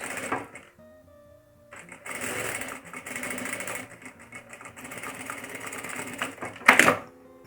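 Sewing machine stitching a seam along the top edge of a fabric face mask, whirring in several bursts of running stitches with short pauses between, close and fairly loud.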